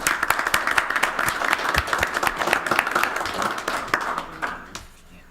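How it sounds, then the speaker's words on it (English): A round of applause from the audience at a Long Hill Township Committee meeting, dense steady clapping that carries on for several seconds before thinning out and fading near the end. "please offer a round of applause for them."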